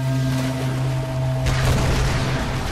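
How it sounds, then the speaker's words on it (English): Explosions in the Tomb Raider video game rumble as a dense, loud booming roar with a low steady hum beneath, swelling into a heavier blast partway through, with no talk. "All the explosions."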